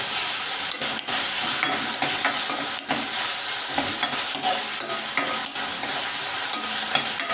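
Onion frying in a pan for methi bhaji crackles loudly and steadily at close range, with repeated spatula strokes and scrapes running through and nobody speaking.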